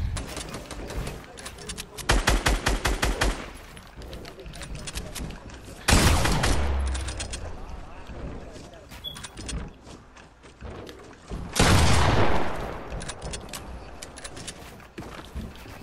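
Loud bursts of gunfire from a first-person kill-streak video game, several rapid volleys and single shots spread through the clip at close range, with game noise between them.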